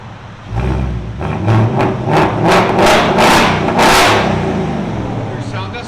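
Loud, close exhaust from a 2024 Ford Mustang GT 5.0L V8 with muffler delete, revved repeatedly in short bursts over a rumbling idle, each blip a harsh roar.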